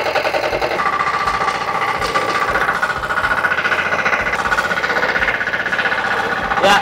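A mini four-wheel tractor, model FTI2010DE, with its engine running at about 30% throttle, a loud, steady chugging diesel rumble with a rapid knocking pulse throughout.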